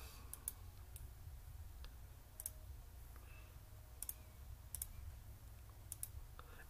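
A postal code is typed on a computer keyboard in a quiet room, with sparse, light, crisp key clicks scattered irregularly across several seconds.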